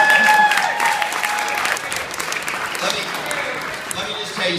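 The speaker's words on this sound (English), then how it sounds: "We got 4 people applauding for us." A small audience at a Heart Association event applauds steadily and loudly up close, with a few voices heard over the clapping.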